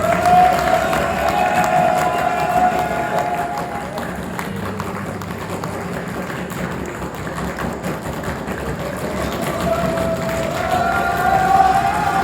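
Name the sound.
audience applause and cheering for a speaker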